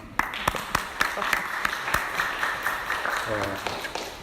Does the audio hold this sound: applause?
yes